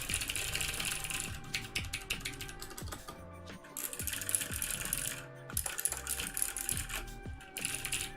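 Steady typing on a KBD66 custom mechanical keyboard with an ISO enter key, a dense run of close, crisp key clacks with brief pauses and no talking.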